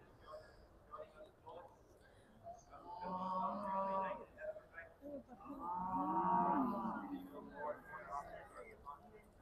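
Beef Shorthorn heifers low loudly at a show judging ring, two long drawn-out moos close by over a murmur of crowd chatter and speech.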